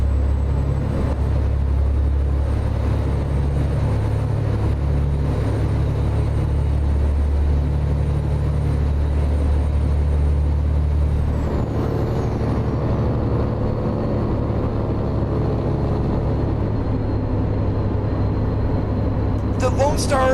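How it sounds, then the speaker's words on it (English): Detroit Series 60 truck engine sound mod in American Truck Simulator: a steady, loud diesel drone and rumble that shifts in tone midway, with a brief hiss near the end. "If you recognize the sound, this is Creechbomb's Detroit Series 60 sounds."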